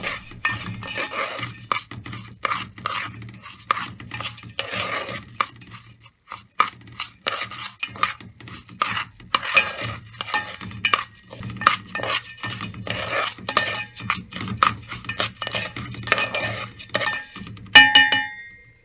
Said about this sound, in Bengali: চালটাকে আমরা 5 বা 6 মিনিটের মতো সুন্দরভাবে ভাজতে থাকবো